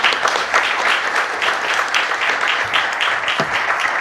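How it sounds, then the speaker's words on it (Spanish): Audience at a deep-tech and biotech investment summit applauds panelists, steady dense clapping filling the whole stretch at even loudness, no talk over it. "les pido un aplauso para estos invitadísimos"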